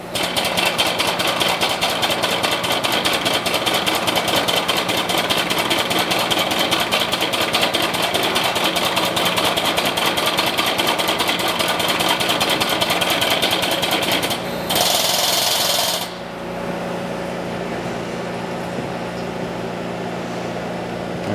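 A pump runs steadily, close and loud, emptying ethanol from a cryo rack into a jug, its dense drone holding throughout, with a short hissing burst near the end before it settles to a lower hum.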